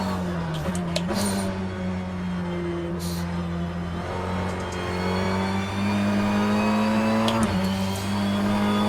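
A racing car's engine in rFactor 2 revs loudly and up close, its pitch climbing and dropping through gear changes with a few sharp shifts, a continuous mechanical whine with no talk over it.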